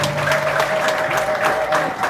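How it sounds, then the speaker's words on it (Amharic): Worshippers at a prophetic deliverance church service applaud, a loud, dense burst of clapping from the gathered congregation, with a sustained musical tone ringing underneath and some voices mixed in. "ለእግዚአብሔር ክብር አጨብጭቡ።"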